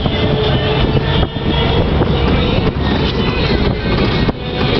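A 1975 Ford Bronco with a 351W V8 and NP435 transmission cruises in fourth gear at about 20 mph and 2,000 RPM, giving a steady, loud broadband drone and road rumble with a few brief dips.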